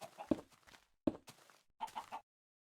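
Chickens cluck in a Minecraft-style game during the Farlands journey, a few short clucks and soft game footsteps repeating at close range over quiet gaps.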